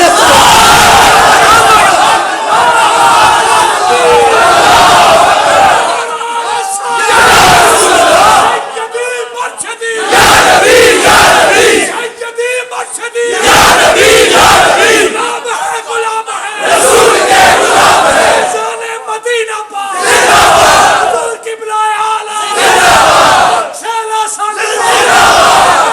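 A large crowd at a Milad and Urs gathering at an Eidgah in Bradford chants religious slogans in loud, rhythmic call-and-response bursts separated by short pauses, with a leader's voice heard between the roars.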